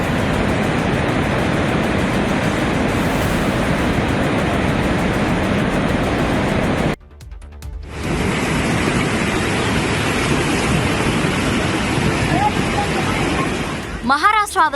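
Floodwater rushes through the Godavari river at Nashik after heavy rain, a dense, continuous roar broken by a brief drop before the torrent returns just as loud.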